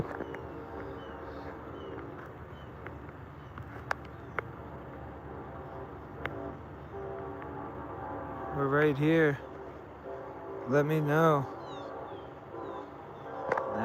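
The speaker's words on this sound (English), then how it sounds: "You hear that train?" A train passes near a cemetery on Grant Street in Florida, sounding two drawn-out horn blasts in the distance over steady outdoor background, with people talking nearby.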